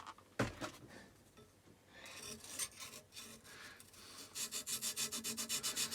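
A sharpening stone rubs back and forth across metal on a Stanley No78 rebate plane, first in slow scattered scrapes, then in a quick steady rhythm of close, rasping strokes.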